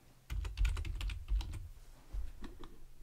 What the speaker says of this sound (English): I'm going to type in Paris